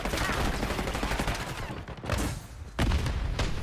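Sniper rifle shots ring out in a Black Ops 6 multiplayer match, loud sharp cracks near the end among dense game noise, with a voice speaking over the action.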